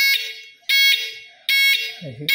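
A shrill DIY earthquake alarm beeps in three long, loud repeating pulses, with a brief low murmur near the end.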